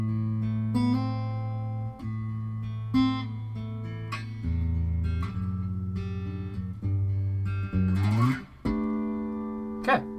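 Acoustic guitar plays a riff with hammer-ons in time, clear plucked bass notes and ringing higher strings in a steady repeating pattern, close and solo.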